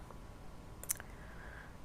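A single sharp computer mouse click stands out against a quiet, steady room hiss, with no talking around it.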